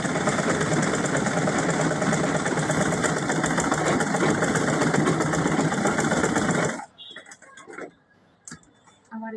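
A sewing machine runs at a fast, loud, continuous whir while stitching elastic into a salwar, then stops abruptly, leaving quiet handling noises and a few short bursts.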